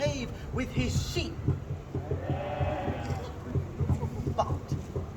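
Sheep bleat during a staged performance of the Odyssey set in a shepherd's cave, with a wavering bleat standing out midway over a steady bed of voices and stage noise.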